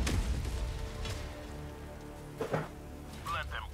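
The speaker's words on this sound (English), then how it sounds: "It's all rainy and shit." Steady rain hisses across the whole stretch in the video game Helldivers 2, mixed with other game sounds and brief voice-like bursts near the middle and end.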